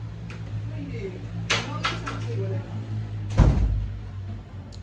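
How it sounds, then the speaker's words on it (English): A door shuts in a student's room with one dull, fairly close thump, after a few lighter knocks and rattles, all over a steady low hum. "Close the door."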